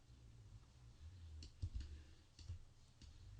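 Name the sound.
computer mouse clicking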